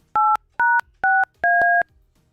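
Four telephone dialing tones sound one after another, each a loud, clean dual-pitch beep with short gaps between, nothing else heard.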